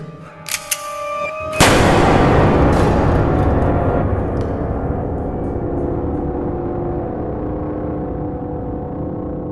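A loud sharp gunshot rings out in the horror video game Forgotten Memories, preceded by a couple of faint clicks, then a long echoing rumble that slowly fades over several seconds.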